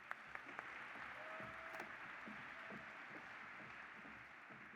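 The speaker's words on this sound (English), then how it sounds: "Let's give a huge round of applause for our visiting state associations." An audience at a state FFA convention session gives a round of applause, a steady wash of crowd clapping, somewhat distant, with a few sharper claps standing out early.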